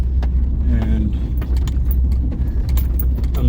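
A truck rolls along a dirt road near a swap meet in Mexico, a loud steady low rumble with rattling and jangling bumps throughout and a brief word spoken over it.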